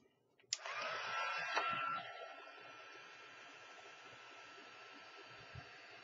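A hair dryer blowing on stained wax canvas switches on with a click and a loud rushing whoosh, then settles after a couple of seconds to a softer, steady airflow hum that runs to the end.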